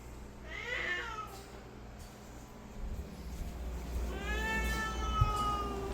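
A cat yowls and meows loudly nearby, two drawn-out screaming cries with a pause between them, set against a low steady hum in a room where a Samsung dryer is being repaired.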